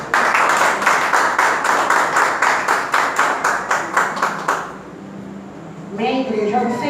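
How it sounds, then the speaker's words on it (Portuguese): Church congregation clapping in unison, a steady rhythmic beat of loud, close claps lasting several seconds before stopping, after which a voice begins speaking. "as palmas nós vamos receber"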